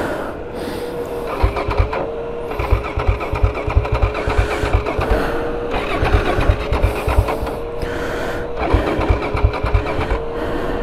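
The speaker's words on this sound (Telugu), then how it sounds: "అవి స్టార్ట్ కావట్లేదు బండి." A motorcycle stuck in sea sand on an African coast is cranked repeatedly without catching, loud rhythmic chugging bursts of the starter separated by short pauses, over a steady background whine.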